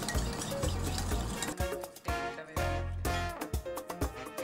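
Egg mixture with lemon zest and lemon juice being whisked in a bowl, quick clinking, stirring strokes in an irregular rhythm, close and fairly quiet.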